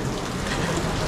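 Steady rain pours down at a beach resort, a dense, even hiss of drops hitting surfaces with no pauses, loud and close throughout the short stretch, with no voices over it.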